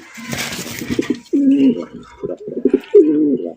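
Male pigeon at a fancy pigeon farm cooing in several close, loud bursts of throaty rolling coos separated by short pauses, with faint background murmur early on.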